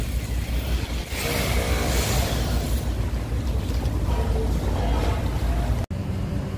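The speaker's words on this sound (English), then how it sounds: "And this is the Chao Phraya river." Boat traffic on the Chao Phraya river in Bangkok gives a loud, steady engine rumble and rushing water wash that runs almost without a break, with a brief drop near the end.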